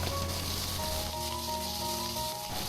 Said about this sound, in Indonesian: dari sisa minyak menggoreng teri, kemudian kita masukkan bumbu yang udah dihaluskan